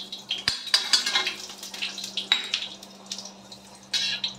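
Fenugreek seeds, cumin and asafoetida go into hot oil for a kadhi tempering, with irregular crackles and pops over a faint hiss and a few metallic clinks of a utensil against the pan.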